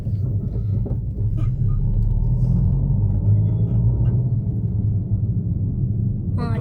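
A car drives along a mountain road near Suryanelli, Munnar, a steady low rumble of engine and tyres close by throughout.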